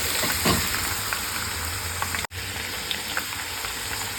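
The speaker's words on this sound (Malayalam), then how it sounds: "നമുക്ക് ക്യാപ്സിക്ക അതും കൂടി പൊരിച്ച് കോരിയെടുക്കുന്നു." Capsicum frying in hot oil gives a steady close sizzle and crackle with small popping flecks, continuous apart from a sudden brief dropout midway.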